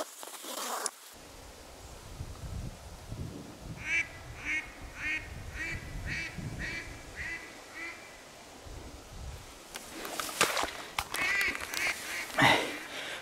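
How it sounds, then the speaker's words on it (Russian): Near an old river channel with a beaver dam during a duck hunt, a duck quacks in a run of repeated calls, then again in a louder burst later, over faint outdoor background noise. "Да, вон слышу, он там крякает, меня уже ждет."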